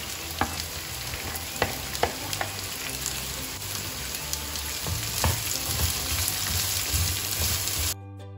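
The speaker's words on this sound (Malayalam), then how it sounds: "ഇനി നമുക്കിതിലേക്ക് അരിഞ്ഞു വെച്ചിരിക്കുന്ന സവാള ചേർത്ത് കൊടുക്കാം" Thinly sliced onions frying in a pan for a fried chicken curry: a steady close sizzle with scattered crackles and occasional scraping clicks from stirring, running the full length before cutting off abruptly.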